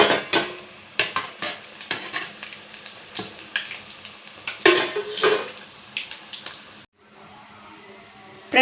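Chana dal masala vadas frying in oil in a pan over a low flame, with a steady soft sizzle broken by repeated clinks and scrapes of a utensil against the pan, close and fairly loud.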